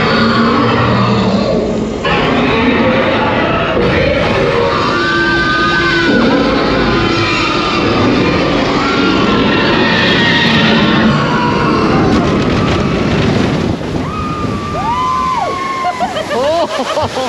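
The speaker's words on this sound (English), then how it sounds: "Hold on to your butts, Jurassic World the Ride." Jurassic World the Ride at Universal Studios Hollywood, a water ride full of loud rushing and splashing water, with riders yelling and whooping close by and people talking amid the roar.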